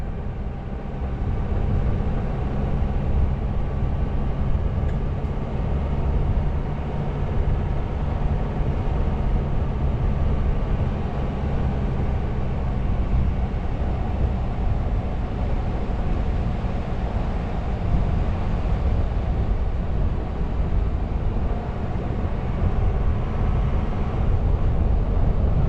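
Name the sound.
wind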